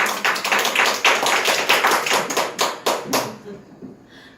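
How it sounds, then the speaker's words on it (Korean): A church congregation claps in unison, giving about a dozen loud, rhythmic beats in quick succession that then stop, with a faint voice afterward. "박수."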